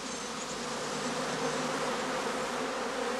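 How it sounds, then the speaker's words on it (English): Honeybees swarm around straw skeps at a bee farm set in birch, alder and pine woodland, making a steady, dense, continuous buzz that fills the air without a break. "the bees are gathering nectar and pollen to supply the colony"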